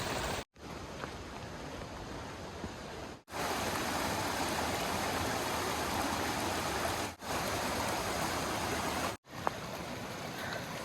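A stream rushes along a canyon hiking trail, a steady broadband water hiss that cuts out briefly a few times, with no voices.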